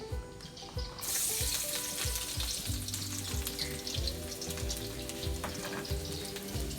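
Garlic frying in hot oil in a pan for a Thai canned-fish dish, a steady dense sizzle that flares up loudly after the first second and keeps crackling evenly throughout.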